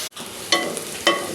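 Finely chopped onions, two medium ones, sizzle steadily in hot oil, close and continuous, with two brief louder bursts where the pan is stirred.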